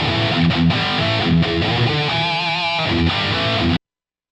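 A looped electric guitar phrase plays continuously through a Line 6 POD Go, loud and distorted, with the tone shifting partway through as different amp settings are auditioned, then cutting off abruptly.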